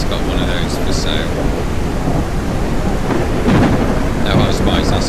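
In the Surroundead video game, heavy rain pours in a constant loud wash with rolling thunder rumbling beneath it, and brief high chirping tones rise twice above the storm.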